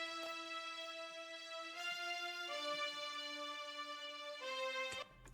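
Bright synth string melody from the Purity plugin, played dry with no effects, holding steady sustained chords that shift every second or so, upfront and alone before cutting off near the end.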